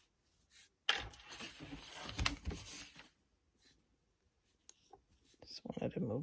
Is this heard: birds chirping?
no